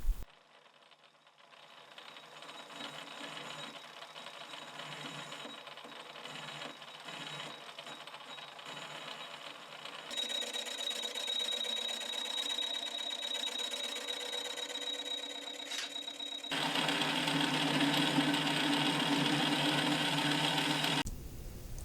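A metal lathe in back gear cuts 1018 cold rolled steel, giving a steady mechanical whir and gear hum that grows louder partway through, with a thin high whine and a harsher, louder cutting noise near the end.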